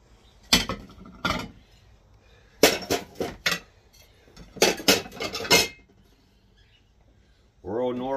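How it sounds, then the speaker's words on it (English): Ceramic plates being flipped over and handled, sharp clinks and clatters in several clusters, with a voice speaking briefly at the end. "Flip those plates over."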